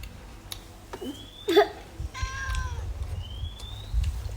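A cat meows several times close by, each call a clear rising and falling cry, with short gaps and a faint room background between them.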